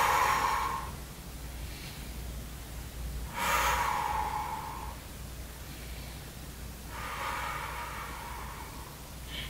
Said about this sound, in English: Important to breathe here, so you exhale when you go up and inhale when you go down